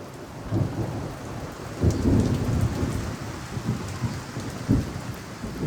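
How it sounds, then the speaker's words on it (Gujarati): Rumbling thunder rolls several times through steady rain during a storm in Bhavnagar, low booms swelling and fading over the hiss of falling water. "અહીંયા તો આવો ગાજે છે, તમને અવાજ આવતો હશે ને?"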